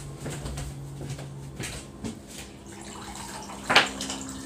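Water runs from a tap while someone fills a glass, a soft continuous flow beneath scattered knocks and clinks, ending in a sharp bright clatter near the end.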